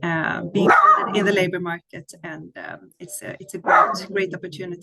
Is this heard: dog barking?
yes